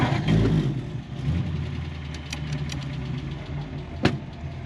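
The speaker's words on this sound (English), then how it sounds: "3-speed manual, Flathead V8, push button start." A 1938 Ford Deluxe two-door sedan's Flathead V8 with push-button start rumbles at a steady, low idle, loud and close, with a few light clicks and one sharp tap near the end.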